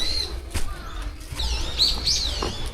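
Small birds chirp and tweet in Shakujii Park in Japan, with a few short, high calls scattered over quiet outdoor background and a faint flutter between them.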